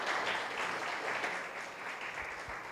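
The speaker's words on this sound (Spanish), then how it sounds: "yo le pido un aplauso para ellos" Church audience applauding a visiting pastor and his family, a steady wash of many hands clapping at moderate distance, fairly quiet and even, fading slightly toward the end.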